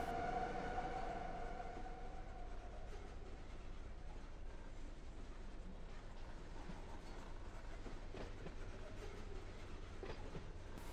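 A BNSF local freight train in the Run 8 train simulator pulls slowly away at walking pace, a steady low rumble with faint wheel clatter and a fading tonal whine at the start, no voices.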